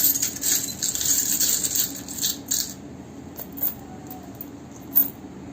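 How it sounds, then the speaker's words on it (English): Small metal charms jingle and clink up close for a few seconds, then scattered light taps and rattles follow more faintly. "I'm pulling some charms to conclude this reading"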